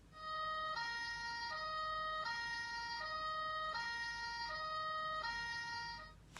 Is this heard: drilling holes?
no